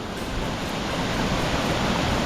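Springer Creek Falls pouring into a shaded grotto pool, a steady, dense rush of falling water with no pauses, close and moderately loud, with no voices over it.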